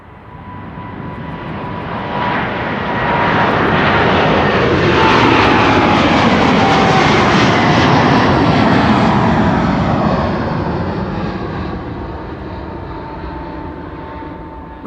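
Jet airliner departing Amsterdam Schiphol from runway 18 Left, its engine roar swelling to a loud, broad rumble mid-clip and then slowly fading as it climbs away, with no talk.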